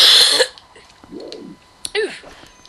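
Someone coughs and clears the throat, a harsh loud burst at the start followed by quieter throaty rasps and a couple of sharp catches.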